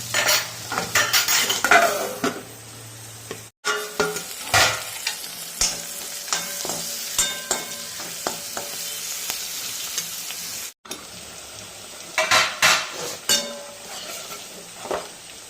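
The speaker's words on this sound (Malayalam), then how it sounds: "ബീൻസും ക്യാരറ്റും പച്ചമുളകും ഉള്ളി എല്ലാം കൂടെ ഇട്ട് ഞാനിത് മെഴുക്ക് പുരട്ടി തയ്യാറാക്കുകയാണ്" Beans, carrot, green chilli and onion stir-frying in a pan in a village kitchen, loud close sizzling with repeated scraping and clinking of a spoon against the pan and brief gaps.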